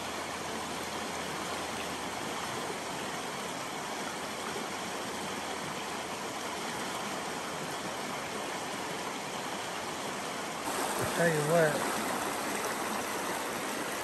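A clear wild river flows with a steady broadband rush, continuous and fairly close, while someone speaks briefly near the end.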